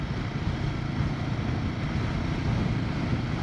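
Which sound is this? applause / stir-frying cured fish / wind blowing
wind blowing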